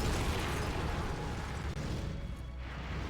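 A loud, dense rumbling burst and sustained crashing roar of a rocket explosion in a video game, filling the sound close up before easing slightly.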